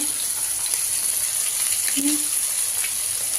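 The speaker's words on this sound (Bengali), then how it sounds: "এই যে চুলায় মাছ ভাজা হচ্ছে" Fish fries in a pan on a stovetop, giving a steady, close sizzle and hiss with a brief soft clink partway through.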